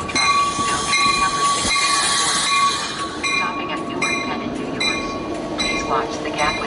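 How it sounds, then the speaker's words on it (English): An Amtrak Keystone train at Trenton station gives a steady, loud rumble of rolling cars with a high tonal whine running throughout, while a voice talks over it. "now boarding on track 1 is the 1155 Keystone Amtrak"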